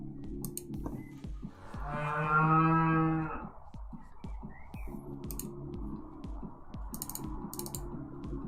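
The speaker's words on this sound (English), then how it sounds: "And of course, there is Knickers, the cow" A cow moos once, a long, loud, low bellow for about two seconds, set against steady clicking and tapping that continue before and after it.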